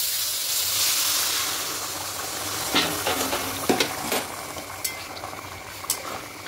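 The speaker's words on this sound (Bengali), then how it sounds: "একটু গরম জল দিচ্ছি।" Hot water poured into a pan of rice frying for hilsa pulao gives a loud, steady broadband hiss of steam and sizzle, followed by scattered sharp crackles and spatters.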